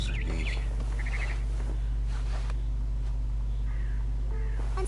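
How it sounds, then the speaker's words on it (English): Barn swallow chirping in the video game What Remains of Edith Finch, with short high tweets and twittering bursts scattered across a steady low game hum. "Then I heard chirping outside my window."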